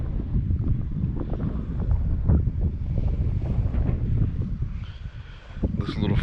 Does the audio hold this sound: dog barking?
no